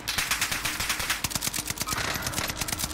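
Rapid automatic gunfire in a shooter video game, sustained bursts of close, sharp shots rattling continuously with no speech over them.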